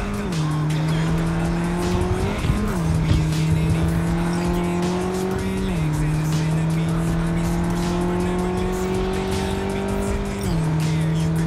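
Race cars speeding in Cyberpunk 2077, engines droning loud and steady as they shift pitch through gear changes, with tire squeal and skidding layered over the roar and no talk.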